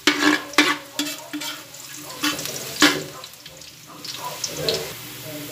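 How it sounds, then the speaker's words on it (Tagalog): Garlic sautéing in a pan for Kapampangan spicy snails in coconut milk, with a steady soft sizzle broken by several sharp scrapes and clatters of a utensil stirring against the pan. "bali magigisa na tayo ng bawang. Unahin na natin yung bawang"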